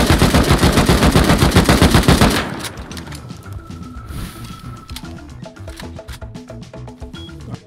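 Automatic gunfire from the survival video game Rust, a loud, rapid machine-gun burst for about two seconds followed by scattered single shots, clicks and other game sounds.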